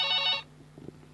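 A telephone rings with one bright electronic ring burst lasting under half a second, followed by faint room noise.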